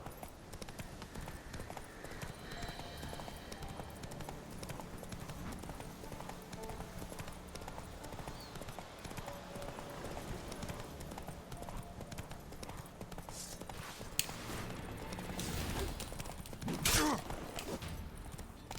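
Horse hooves gallop in The Witcher video game, a steady rhythmic clatter running the whole way through, with a brief sharp crash near the end.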